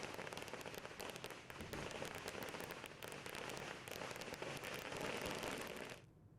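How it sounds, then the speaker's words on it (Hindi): Firecrackers set off in celebration of election results in Maharashtra make a faint, dense crackle of rapid pops lasting several seconds before cutting off abruptly, heard from a distance with no voices. "जगह जगह पटाखे चलाए जा रहे हैं"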